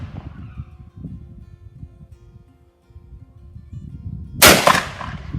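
A single loud, sharp gunshot cracks out near the end at a shooting range in Pathum, fired as the third round. Before it, a low rumble of background noise fills the range.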